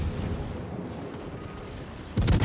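Heavy battleship guns of the Musashi fire in a naval warfare game, a single deep booming blast hitting near the end after a low rumbling background.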